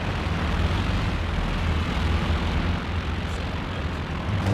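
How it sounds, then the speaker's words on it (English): Warplanes sweep in during a Company of Heroes 2 match, a loud, steady aircraft engine roar mixed with a deep rumble, continuous throughout with no talk over it. "The planes coming in."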